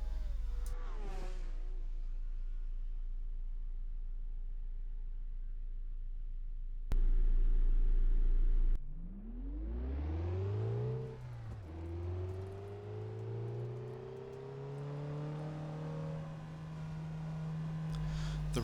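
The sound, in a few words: cars driving past from both directions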